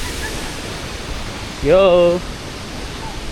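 A waterfall in Camiguin pours as a constant broadband hiss, steady and enveloping, briefly interrupted by a short shouted voice.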